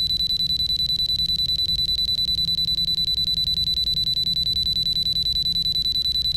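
Repetitive electronic warning beeps from a PA-34 Seneca cockpit in Microsoft Flight Simulator X, sounding steadily and evenly with a fast regular rhythm, loud and continuous with no voices.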